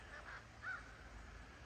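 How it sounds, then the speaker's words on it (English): A distant crow calls during an aerial fight with a hawk, two or three faint harsh caws over quiet outdoor background. "A crow against a hawk."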